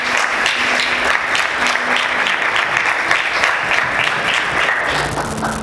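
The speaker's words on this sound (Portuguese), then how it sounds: "Vamos aplaudir ao Senhor." Church congregation applauding during a worship service, a loud, dense, continuous round of clapping filling the room with no pauses.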